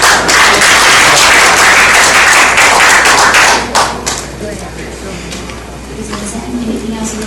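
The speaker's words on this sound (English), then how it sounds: "Big applause." Applause from an audience at a Rotary club meeting hosting visiting international students, dense and loud for several seconds before fading to scattered claps and murmuring voices.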